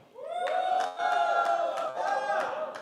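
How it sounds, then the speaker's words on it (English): Guests at a wedding reception cheer together in a loud, sustained burst of voices, swelling and dipping in a few waves across a few seconds, with whoops rising above the crowd. "I want you guys to cheer if it relates to you."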